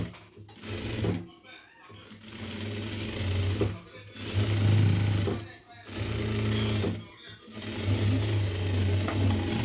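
An electric sewing machine stitches a frock sleeve in several runs of steady, fast mechanical whirring, each lasting a couple of seconds and separated by brief pauses, close and loud with a voice speaking over it.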